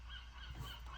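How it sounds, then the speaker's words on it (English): A loud seagull calls nearby outdoors, a harsh honking cry that fills the whole second over steady background noise. "No, it's a seagull."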